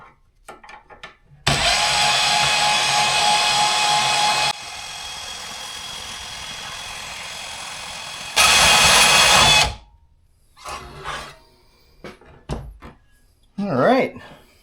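Milwaukee M18 cordless bandsaw cutting through stainless steel tubing: a loud steady whine of about three seconds, a quieter grinding stretch, then a second loud burst, followed by scattered clanks and handling noise.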